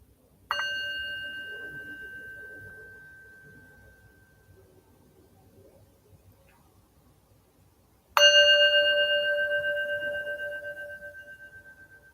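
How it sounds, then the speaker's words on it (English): A meditation bell is struck twice, several seconds apart; each clear metallic tone rings out and fades slowly into near silence. "Allow yourself to come back, the sound of a bell"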